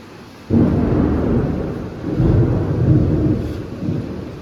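A heavy thunderstorm sends a deep, loud rumble of thunder that breaks in suddenly, rolls on in swelling waves, then slowly fades, with faint rain underneath and no talking.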